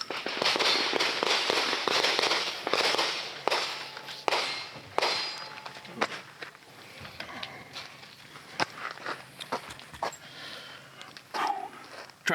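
Pistol shots fired at eye protection from about 25 yards give a rapid, irregular series of sharp, loud cracks, most dense at first and then more spaced out.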